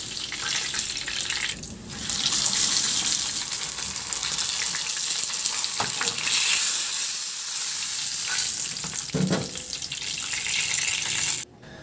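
Tilapia frying in a pan of hot oil gives a steady, loud hiss and crackle across the whole stretch, dipping briefly near the start, with no talking.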